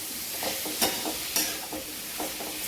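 Finely chopped tomatoes for a tomato chutney are sautéed in a pan, with repeated scraping stirs over a soft, steady sizzle, close and fairly quiet, with no voices.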